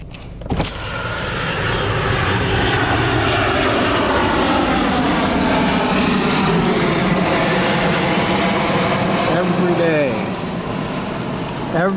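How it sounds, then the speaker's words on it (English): A fixed-wing airplane flies low overhead near Long Beach airport, its loud engine roar swelling in and holding steady for the whole stretch, with the pitch slowly sliding as it passes. "Here comes an airplane."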